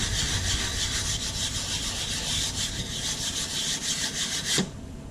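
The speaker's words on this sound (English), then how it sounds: "just sanding lightly." Steady, rhythmic rasping of sandpaper rubbed lightly back and forth across a flat composite fin blank by hand, continuing evenly before stopping abruptly near the end.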